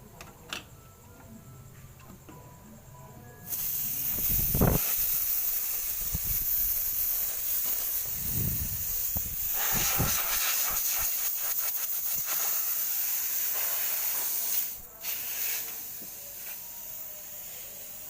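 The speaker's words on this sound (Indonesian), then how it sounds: "Kita buang freon yang ada di dalam sistem." Freon refrigerant released from a single-door refrigerator's sealed system, a steady loud hiss that starts abruptly, carries on for about eleven seconds with faint ticking, and cuts off sharply, with no voices.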